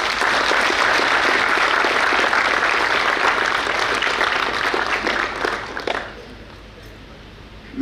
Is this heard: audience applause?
yes